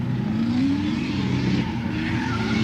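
Drift car tires skid and squeal through a competition run, a continuous loud engine roar with a rising tonal screech sustained throughout, no talk.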